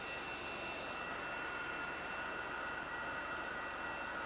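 Boeing 737 Max 8 arriving at Melbourne Airport, heard as a steady, fairly faint engine roar and whine from some distance, unbroken throughout with no talk over it.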